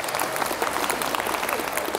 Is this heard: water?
no